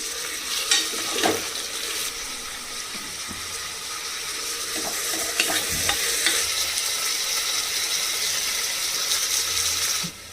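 Onions and mint leaves fry in a pan as they are stirred, making a loud, steady hiss with occasional scraping strokes up close.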